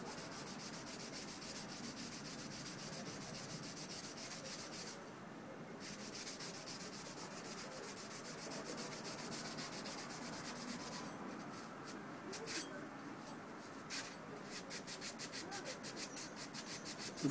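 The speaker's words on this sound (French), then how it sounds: "On frotte assez fort pour pouvoir retirer les points de rouille qui se trouvent dessus." Rough side of a sponge with olive oil scrubbed hard against rust spots, a steady close rubbing scrape that runs throughout, with a few brief pauses and quicker strokes toward the end.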